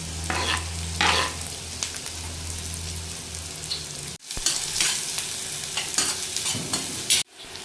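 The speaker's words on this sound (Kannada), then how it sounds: "ಈರುಳ್ಳಿ ಫ್ರೈ ಮಾಡ್ಕೋಬೇಕು." Onions frying for Singapore noodles, a steady sizzle under repeated clattering stirs and scrapes of a utensil in the pan, with a low hum in the first half and two abrupt cutoffs.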